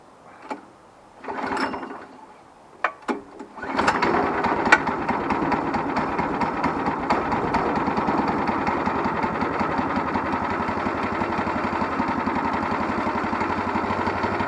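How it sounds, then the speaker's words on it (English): A small gasoline engine on an OS23 Frontier portable sawmill is pulled several times before catching, then settles into a steady, close mid-pitched running drone. "we turn the fuel on, turn the choke on. Throttle's free, power switch is on, emergency stop is off."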